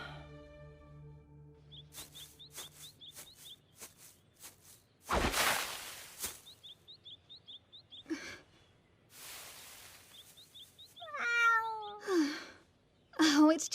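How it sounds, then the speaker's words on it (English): A cat meows in short repeated calls near the end, with chirpy rising mews and a breathy sigh, mixed with soft rustling and footsteps in an anime scene, no talk over the cries. "Oh, it's just a cat."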